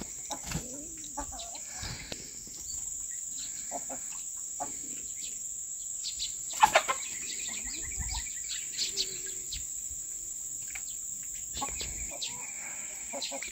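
Chickens clucking faintly outdoors as a flock of about twenty birds is let out to roam, scattered short calls over a steady insect-like hum, with a sharper burst midway.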